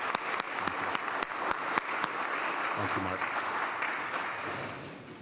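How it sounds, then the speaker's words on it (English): A crowd at a veterans ceremony gives a round of applause, with scattered loud claps at first that thicken into a steady patter while someone speaks briefly over it. "give a nice round of applause to Ted for volunteering this time today"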